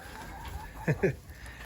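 Chickens in a coop give two quick clucks close by, over a steady background hum.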